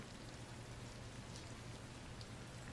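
Steady rain falls with a dense, even patter of drops, fairly quiet and continuous throughout, with no voices.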